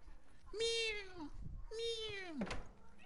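A cat gives two long, clear meows about a second apart, close by at night, with a soft thud or knock between and right after the second cry.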